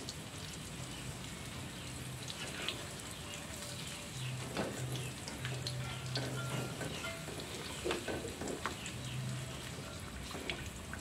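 Chocolate-filled snacks deep-frying in hot oil, a dense continuous sizzle and crackle with scattered pops and stirring clatter, heard at moderate level with faint background voices.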